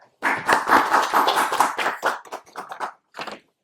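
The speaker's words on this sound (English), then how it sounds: "here is a great round of applause for Greenwoods Legal LLP for supporting us and being our hosting partner" Applause for a hosting partner at a tech event: a small group claps together in a brief burst of close hand claps that thins out into a few scattered final claps.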